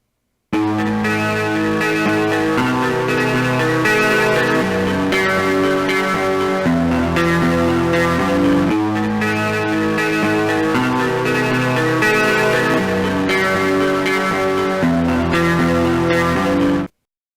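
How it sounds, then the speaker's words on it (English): Electric guitar with heavy distortion, thick and buzzing, strumming chords continuously at steady volume without any talking. "This is a guitar sound after applying distortion."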